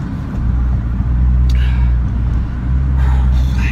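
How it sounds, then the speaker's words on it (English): Low, steady exhaust drone of a Nissan GT-R cruising slowly at about 25 mph, a loud rumble dominating from inside the car with no other traffic around. "It's just got a loud exhaust"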